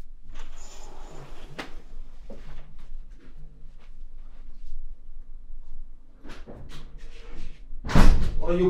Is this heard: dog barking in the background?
no